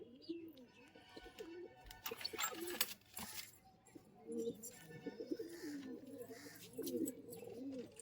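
Murshidabad Giribaz breeding pigeons coo repeatedly in soft, rolling phrases close by, with faint scattered chirps and a person talking quietly at times.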